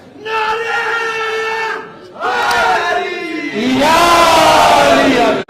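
A large crowd at an Eid-e-Ghadeer gathering in an imambargah shouts a religious slogan in loud, drawn-out unison, three surging calls in a row, each rising to a roar.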